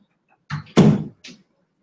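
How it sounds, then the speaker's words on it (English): Someone closes a door indoors: a short rustle, then a solid thud as it shuts, followed by a lighter click, all close by and otherwise quiet. "let me close the door"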